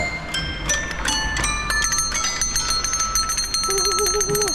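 A toy bell at an indoor playground rings in a quick series of bright metallic dings, loud and close, with playground noise around it.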